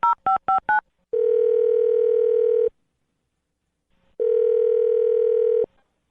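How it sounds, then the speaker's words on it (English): Four quick tone beeps of a telephone being dialed, followed by two long steady dial-tone stretches separated by a short silence, loud and clear with no voices. "I'm going to dial this one over right now."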